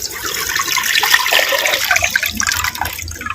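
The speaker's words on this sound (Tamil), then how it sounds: "ரெண்டு லிட்டரு பச்சை தண்ணி சேர்த்துக்கிறேன்" About two litres of plain water poured into a clay cooking pan, giving a continuous close splashing gush that lasts the whole stretch with no talking over it.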